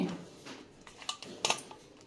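Knife slicing fresh garden ridge gourd thinly with its peel on, a few quick, soft, close cuts and light taps against a board, quiet and irregular.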